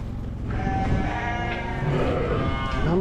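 Animals bleat and low inside a barn on a sheep farm, a dense overlapping chorus of calls that stays loud and steady throughout.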